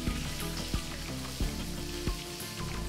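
Vietnamese spring rolls with shrimp and pork fry in plenty of oil in a pan, a dense steady sizzle with crackling pops and a few soft knocks throughout, close and without talk.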